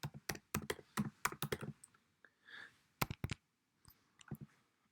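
Quick bursts of close computer keyboard typing while entering data in SPSS, sharp clustered key clicks, a brief pause, then a few more taps, fairly quiet overall.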